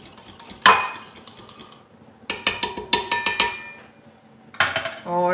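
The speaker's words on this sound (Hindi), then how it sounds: "अच्छी तरह इसको मिक्स कर लें" Food being mixed in a pan, heard as a series of sharp metallic clatters and rattling scrapes of a spoon against the pan, in bursts separated by brief pauses, close and without talk.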